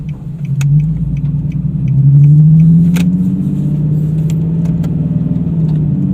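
A Nissan 370Z pulls away from home after a front brake pad and rotor change, its engine a steady close low rumble that rises gently as the car moves off, with faint rattles over it.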